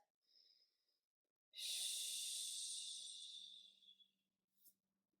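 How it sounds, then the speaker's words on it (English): During a mat Pilates class, one long, close exhale hisses out for about two and a half seconds after a short, soft intake, followed by a faint quick sniff, all in near silence. "One more breath."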